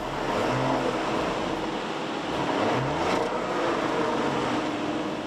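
A 2025 Audi Q8 SUV with a 3-liter turbocharged V6 pulls forward under acceleration, a steady broad engine and road roar mixed with rushing wind, heard close with no voices.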